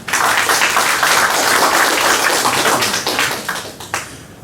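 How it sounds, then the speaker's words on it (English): Audience applause at a tech conference session on machine learning, a dense burst of clapping that holds steady for about three seconds, then thins out and fades, with a few last scattered claps. "Now let's give him a big applause."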